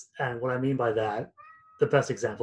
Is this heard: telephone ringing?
no